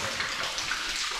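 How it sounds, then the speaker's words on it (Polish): An underground river rushes and splashes steadily inside a cave, a continuous close flowing sound with no voices. "Woda leci."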